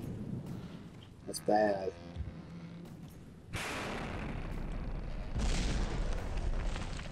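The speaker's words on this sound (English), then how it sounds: "it's getting pummeled by missiles" Swarm missile explosions hit a ship in the video game From the Depths, turning into a sustained, loud rumbling roar that rises again partway through, after a short spoken remark.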